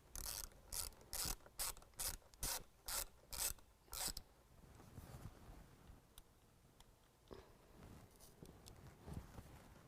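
A ratchet loosens the 10 mm negative battery terminal nut on a 2017 Ram 1500, giving about ten loud, evenly spaced clicking bursts, then quieter scattered metallic rubbing and handling noises.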